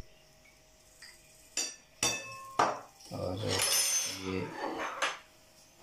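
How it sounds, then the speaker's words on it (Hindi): A spoon clinks a few times against a bowl while spices, ginger-garlic paste and chili are mixed into a cup of yogurt, with someone talking over the light metallic taps. "दही का 1 कप, इसमें बाकी चीज़ें जो हम मिक्स करेंगे दही में"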